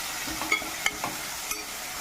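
Capsicum, grated coconut and vegetables sautéing in a pan for a channa veg masala, with a low continuous sizzle and a few sharp spatula scrapes and taps, close up with no talking.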